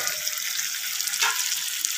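Water poured straight into a hot pan of chicken with radish sets off a loud, steady sizzle and bubbling hiss that fills the whole moment, close up and with no voices.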